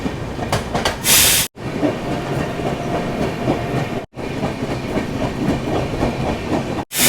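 Duronto Express passenger train running through Jharsuguda Junction in Odisha without stopping, heard from inside: continuous loud rumble and rhythmic clickety-clack of wheels over rail joints, with a brief sharp hiss and short dropouts.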